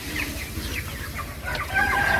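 Broiler chickens on a poultry farm in Talangjering make a soft, continuous chorus of clucks and chirps, moderately near, with no talking.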